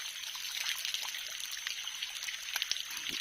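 Mountain spring water trickles steadily in a continuous bright splashing babble, close and moderately loud. Small drips and splashes stand out near the end, with no voices.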